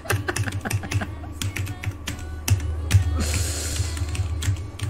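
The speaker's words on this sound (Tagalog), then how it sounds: "Hindi ko pala alam kung maingay sa inyo yung keyboard" Busy clicking of a computer keyboard during an Axie Infinity arena match, quick uneven keystrokes and clacks close to the mic, dense and continuous with no talking.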